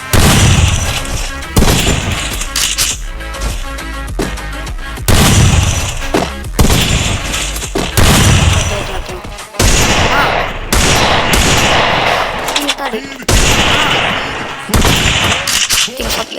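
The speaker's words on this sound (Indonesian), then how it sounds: "Shotgun." Shotgun blasts in a video game, loud repeated bursts roughly every second or two across the stretch, each with a sharp attack and booming tail, mixed with other gunfire and game sounds.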